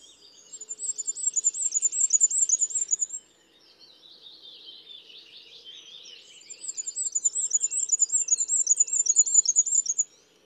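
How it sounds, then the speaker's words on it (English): Goldcrest song recorded during a dawn chorus: two bursts of very high, thin, rapidly repeated notes with a trill-like ending, separated by a softer, lower warbling phrase from another bird, fairly close and clear. "That was the song of the goldcrest."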